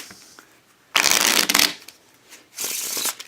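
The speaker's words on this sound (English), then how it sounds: "We do our shuffle like that, and you'll see that it's hard to do slowly" A tabled riffle shuffle of a deck of playing cards gives two bursts of rapid, crisp fluttering, close and loud, with a quiet pause between them.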